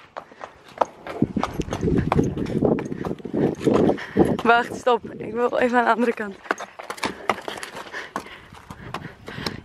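Hooves of horses clop and shuffle in a stable in a quick uneven rhythm, close and fairly loud, while a person speaks over them.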